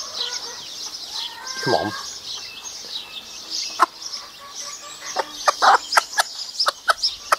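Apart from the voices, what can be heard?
hen clucking, calling chicks to food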